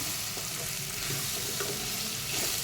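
Vegetables stir-fried with biryani masala in a pan, a steady soft sizzle with faint scraping of stirring, continuous and fairly quiet, no voices.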